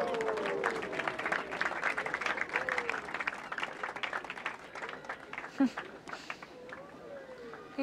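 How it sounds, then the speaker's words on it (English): An evening crowd breaks into sustained applause and scattered cheering as lights are switched on, a dense distant patter under a nearby conversation. "People always cheer when they turn the lights on in the evening, every time."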